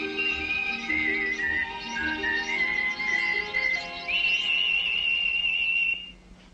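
A loud, sustained whistled tune with sliding pitches, continuous for about six seconds before stopping abruptly.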